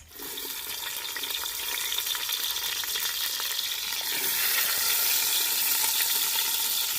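Chicken frying in oil, about 2.5 kg in a large vessel outdoors at a village party, giving a broad, steady hissing sizzle that swells slightly and continues without talk.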